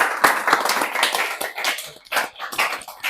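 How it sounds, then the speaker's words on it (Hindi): Acting-workshop participants clap together in a dense, lively burst of applause lasting a few seconds, with uneven peaks and no voices over it. "तो ज़ोरदार ताली आप सबके लिए"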